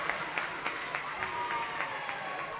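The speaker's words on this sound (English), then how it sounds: "the Republic faithful stand and applaud" Basketball crowd at a state quarterfinal standing and applauding a charge call, a dense, steady wash of clapping with sharper accents, heard at moderate distance in a gym.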